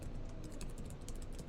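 Rapid keystrokes on a computer keyboard while entering data into an Excel spreadsheet cell, an uneven run of soft, close clicks over a low background hum.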